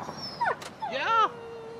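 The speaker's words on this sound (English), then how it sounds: "Yeah, they're beating up a dog." In the video game Yakuza 5, a dog being beaten gives short, high whimpers and a longer yelping whine, close and fairly loud, with a brief thud between cries.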